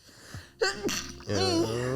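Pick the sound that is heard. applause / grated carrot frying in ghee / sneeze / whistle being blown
sneeze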